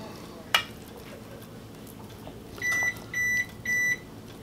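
Three evenly spaced electronic beeps from a kitchen oven signal that it has finished preheating, clear and close after a brief clatter, with no one speaking.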